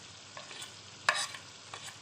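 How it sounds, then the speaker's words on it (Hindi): Spices, salt, ground coriander, turmeric, red chilli and cumin, being roasted in a pan for keema kachnar, giving a faint steady sizzle with soft scraping stirs and one brief louder hiss near the middle. "अब ये मसाले हम भून रहे हैं"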